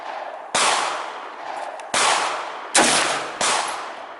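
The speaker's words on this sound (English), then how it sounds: "the 357, shooting 38 special" A .357 revolver firing .38 Special rounds at an outdoor range: four loud, sharp reports at irregular intervals, each with a short fading ring-out, no talk over them.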